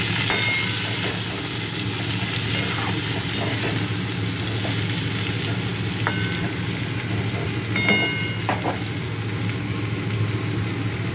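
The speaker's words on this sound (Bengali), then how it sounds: "অল্প একটু হলুদ দেবো, দিয়ে একটু নেড়ে দেবো।" Drumsticks and potatoes with a little turmeric frying in a pan for aloo posto, with a steady sizzle throughout and a few sharp spoon scrapes against the pan as they are stirred; no voices.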